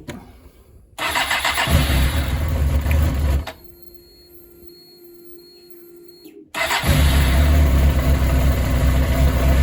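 A 1998 Suzuki GSX-R 750 SRAD motorcycle engine cranks and catches, runs loud and rough, drops to a quieter steady idle, then revs back up loudly. No talking.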